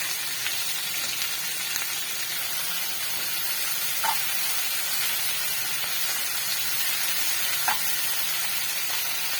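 Kohlrabi for chutney sautés in a pan with salt, giving a steady, even sizzle and hiss throughout, broken only by a couple of faint utensil taps.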